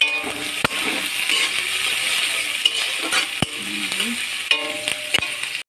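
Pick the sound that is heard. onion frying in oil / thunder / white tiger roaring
onion frying in oil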